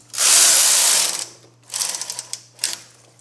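A knitting machine carriage is pushed across the bed to knit a row of a sweater, giving one long loud ratcheting sweep followed by two shorter, clattering passes, close up.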